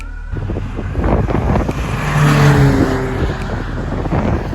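A Volvo car cruises around the Donington Park circuit on a track day, its engine a steady droning rumble with wind buffeting, passing fairly close with no talk.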